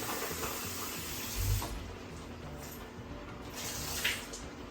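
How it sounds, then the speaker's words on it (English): Cherry tomatoes are rinsed under a running kitchen tap, giving a steady close wash of water with a brief heavier splash, and no one speaks. "I'm gonna put my tomatoes in. Just wash them."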